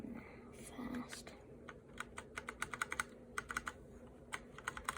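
Keycaps click onto a mechanical keyboard with brown switches, a run of soft, close taps and snaps heard at low volume with faint background hiss.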